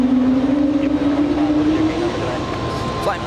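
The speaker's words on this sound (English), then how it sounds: "we have Delta taking off. A big A330-300." A Delta Airbus A330-300 takes off at JFK airport, its engines giving a steady, fairly loud roar with a drifting whine that holds throughout, no voices over it.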